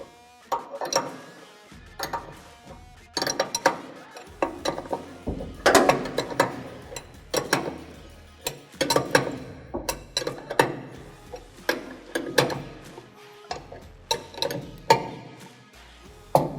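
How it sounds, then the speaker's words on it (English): Ratchet wrench tightening a nut on an unloading auger chain tube, a series of sharp metallic clicking bursts in irregular runs with brief pauses, close and fairly loud, no talk. "Now we do this nut up all the way."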